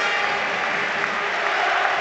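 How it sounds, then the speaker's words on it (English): Stevenage football crowd on its feet at a substitution in a match against Carlisle: dense, loud applause and cheering from a large stadium crowd, a continuous broadband roar without pauses. "you can hear the Stevenage crowd have immediately got on their feet"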